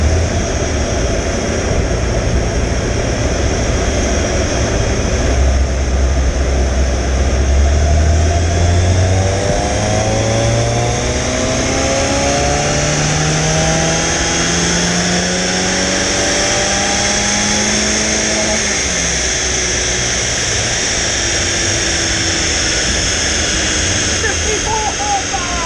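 A Citroen AX GT 16v revs hard on a rolling road. The loud engine note climbs in pitch and then falls away, with a constant roar of dyno fans underneath.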